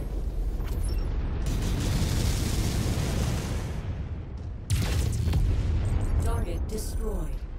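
A big missile stream slams into a target in a mech video game, producing a loud, sustained roaring rumble of explosions, then a second heavy blast near the end with some clicking effects.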